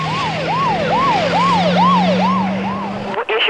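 Ambulance siren wailing in a rapid repeating rise-and-fall pattern, loud and close, about seven cycles over a steady vehicle hum before cutting off abruptly.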